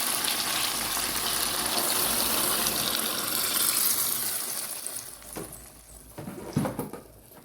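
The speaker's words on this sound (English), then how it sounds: "I'm just gonna add some water." Water gushes and patters into a pot of fish frying in fish sauce, ketchup and browning, a dense rushing pour that eases off, followed by a few light clanks.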